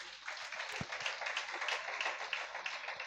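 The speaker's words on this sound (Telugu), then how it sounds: "చప్పట్లు కొట్టండి మంచిగా." A church congregation claps together at a Sunday worship service, a steady dense patter of many hands filling the room throughout, with one low thump partway through.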